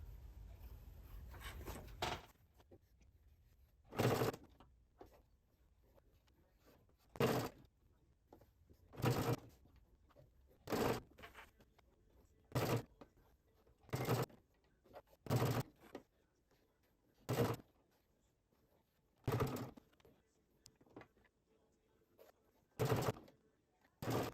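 A sewing machine stitches fabric for a crib sheet in short separate bursts of rapid needle clatter, about a dozen runs with quiet pauses between them.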